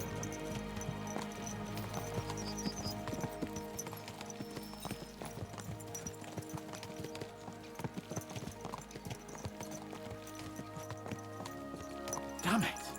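Horses' hooves in Kingdom Come Deliverance 2 clip-clop in a brisk, steady gallop rhythm throughout, mid-distance and moderately loud over sustained tonal background music.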